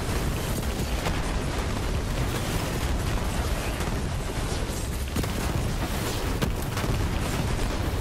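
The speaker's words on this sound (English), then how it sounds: "I can't even hear myself talk, it's so fucking loud, so many explosions" Explosions in the video game Borderlands 3: a continuous, loud wall of booming blasts and bursts layered over each other, with no clear gaps between them.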